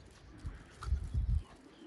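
A racing pigeon arriving at its loft gives a few low, soft coos close by, a short burst of throaty murmurs over quiet background noise.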